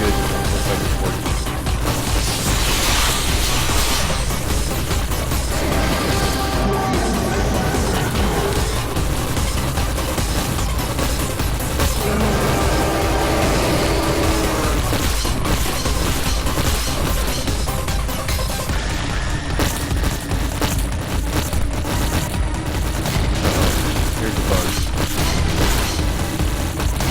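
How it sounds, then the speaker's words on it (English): Cannon bullets firing in the video game Skycurser, a dense, continuous barrage of loud booms and crashing bursts running throughout without pause. "we're only testing the working cannon bullets"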